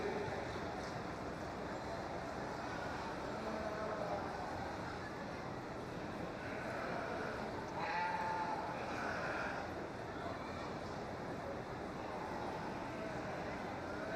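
Sheep bleat intermittently amid a noisy crowd at a 4-H and FFA fair sheep showmanship class, with a loudspeaker voice and steady background din throughout.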